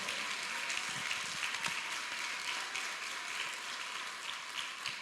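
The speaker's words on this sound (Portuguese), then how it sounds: "Você pode aplaudir Jesus" A church congregation at a youth conference applauding, a dense, steady wash of many hands clapping at once that stays even and fairly distant throughout.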